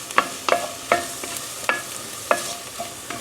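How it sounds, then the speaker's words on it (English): Shallots sweat in a pan for a creamy keto tomato soup, giving a soft steady sizzle broken by repeated scrapes and stirs at a regular pace, close by, with no talking. "So all I'm going to do is get these shallots going,"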